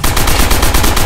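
Rapid turret machine gun fire in Call of Duty rattles in a fast, even burst, loud and close, lasting about a second.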